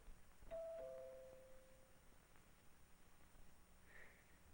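A two-tone doorbell chime rings once in a 1950s family home, a clear ding-dong of two descending notes, fairly faint against a quiet room hiss, with no talking.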